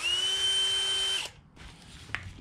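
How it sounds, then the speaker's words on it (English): Power drill turning an auger bit, most likely mixing dry pack mortar for a shower bed: a loud steady whine for over a second, then it stops, followed by a quieter stretch and one sharp knock. "using our auger bit"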